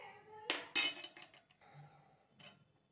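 Rock salt tumbles into a metal cooker pot of black chickpeas, followed by clinking, scraping stirring strokes against the metal, close and uneven with pauses between.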